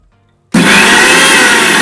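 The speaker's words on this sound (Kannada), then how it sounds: "ಒಂದು 30 ಸೆಕೆಂಡ್ಸ್ ಮಿಕ್ಸಿ ಮಾಡಬೇಕು" A mixer grinder with about half a glass of water in its jar switches on abruptly after brief silence, then runs with a loud, steady, close whirring roar.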